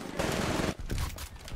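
Smart pistol gunfire in Titanfall on the Swampland map, loud rapid bursts of shots close up that run almost continuously, with a brief gap and then further sharp cracks.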